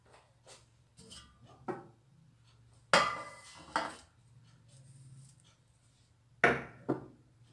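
Sablé cookies are set onto an oiled oven tray in a home kitchen, giving a series of soft and then sharper metallic taps and clatters, several separate hits spaced unevenly, close and fairly quiet over a low hum.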